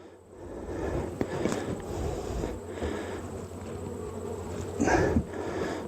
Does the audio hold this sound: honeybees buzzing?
yes